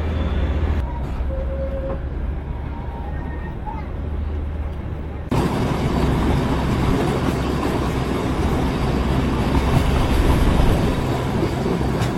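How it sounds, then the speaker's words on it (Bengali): The Darjeeling toy train passes along a road near Siliguri, a low rumble that swells abruptly into a loud, dense roar of wheels and carriages close by, with a voice talking early on. "আগে কত সিনেমায় দেখেছি টয় ট্রেন পেরিয়ে যাচ্ছে এই মাঝ রাস্তা দিয়ে"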